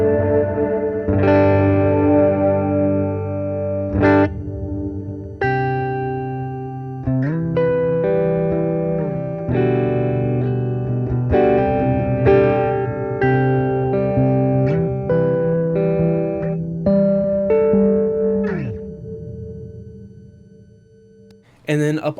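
An electric guitar plays through a delay pedal with its tone control rolled down, sustained chords and notes ringing with echoing repeats and a dark, softened top end, fairly loud, with a voice briefly audible.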